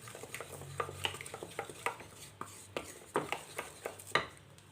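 A dessert mixture stirred by hand in a bowl, close soft scraping and repeated light clinks of a utensil against the bowl in an uneven rhythm, with no talking.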